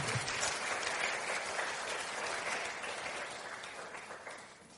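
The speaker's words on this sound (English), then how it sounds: "Can we have a round of applause," Audience applause following an address on emerging defence technologies: dense, steady clapping from a large seated crowd that fills the room and tapers slightly toward the end.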